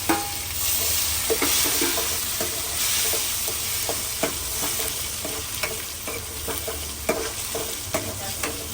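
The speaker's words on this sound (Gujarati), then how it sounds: "આને બધું એક મિક્સ કરી નાખીએ, સરખું હલાવી નાખીએ." Tomatoes, onion and chillies frying in a pan and being stirred, with a steady sizzle beneath repeated scraping clicks of the spoon, close and alone.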